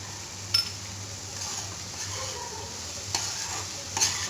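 Spices sizzle and fry in a pan for potato curry while a utensil stirs them, with a steady hiss underneath and a few sharp clinks of the spoon against the pan.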